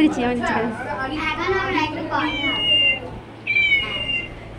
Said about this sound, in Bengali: বিড়ালের বাচ্চাটা আবার ডাকে, কি কিউট